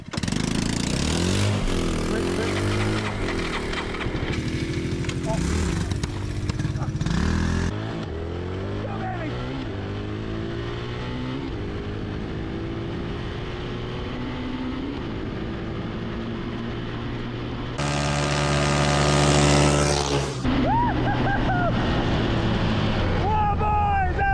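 A DR200 dirt bike and a mini jeep race off the line, their engines revving hard and rising in pitch, then a loud burst of high revs near the end, with people talking throughout.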